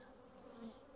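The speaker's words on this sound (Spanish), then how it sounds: "nunca había escuchado tanto zumbido" Honey bees by the thousands drone inside a hive, a faint, steady, continuous buzz heard from close by with no voices.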